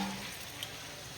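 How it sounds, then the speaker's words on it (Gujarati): Spice tempering in hot oil, a soft, faint sizzling hiss held steady for a moment, with a tiny pop partway through. "થઈ ગયો વઘાર"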